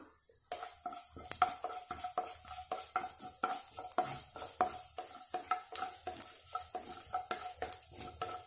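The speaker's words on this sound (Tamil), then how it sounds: "எப்பயுமேவும் தாளிக்கும் போது கடுகு நல்லா வெடிக்கட்டும்" Mustard seeds crackle and pop sharply in hot oil while tempering for drumstick masala curry, a rapid, irregular run of bursts mixed with the clink of a stirring spoon.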